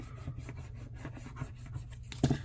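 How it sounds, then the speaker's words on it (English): Paper is burnished down by hand in quiet, close rubbing and scraping strokes, ending in a slightly louder scuff. "And we'll burnish that down."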